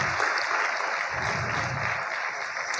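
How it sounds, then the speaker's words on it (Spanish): A church congregation claps loudly in steady, dense applause that fills the room throughout, with a faint murmur of voices beneath. "¿Cuántos le dan un fuerte aplauso al Señor?"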